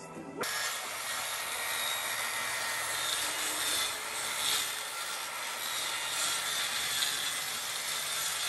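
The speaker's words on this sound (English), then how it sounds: "Time to cut up that plywood and get the roof going." Plywood being sawn for the roof of an off-grid A-frame cabin build, a steady, continuous rasping cut that runs close and loud throughout with no talk.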